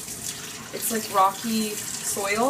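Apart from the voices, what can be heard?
small stream of lukewarm water pouring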